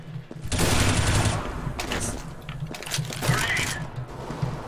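Gunfire bursts in a competitive team shooter match, loud and sustained at first, then continuing in shorter volleys while players talk over it.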